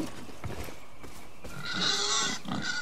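Pigs in the video game Far Cry 5 grunt and oink in a few short bursts, with a louder squeal near the end, over steady game ambience.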